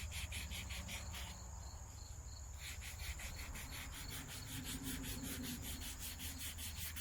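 Rhythmic scratchy rubbing of sandpaper on the edges of charred wood, close and steady with repeated back-and-forth strokes, no talking.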